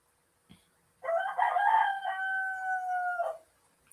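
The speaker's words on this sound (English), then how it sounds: "Apart from my rooster." A rooster gives one long, clear cock-a-doodle-doo of roughly two seconds, close by and alone, after a brief faint knock.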